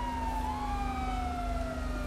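A police car siren in the GTA 5 video game wails steadily and loudly, its tone sweeping up and down over a constant low engine rumble throughout.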